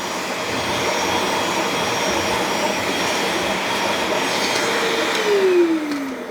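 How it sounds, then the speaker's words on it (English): A Bissell or Kenmore carpet spot cleaner runs with steady suction, drying the carpet. The loud, continuous motor whine is close and unbroken, with a slight rise in pitch near the end. "I feel like I got good suction if I just wanted to dry the carpet."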